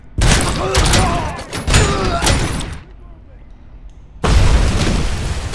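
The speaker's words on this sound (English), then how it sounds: "Grenade!" A grenade explodes in the RoboCop: Rogue City video game, one of several loud booming bursts that come amid gunfire-like noise, with game dialogue and shouting heard throughout.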